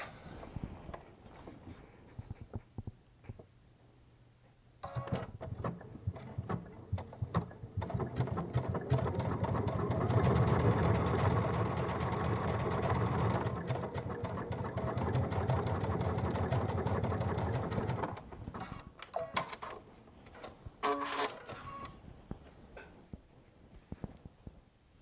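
A Baby Lock Solaris sewing machine stitches with a bridging plate set fitted but fails to form a proper stitch, a steady mechanical whir with rapid ticking that swells for several seconds between quieter starts and stops.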